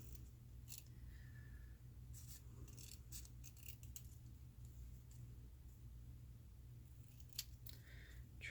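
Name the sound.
trimming a paper word cut-out, likely with scissors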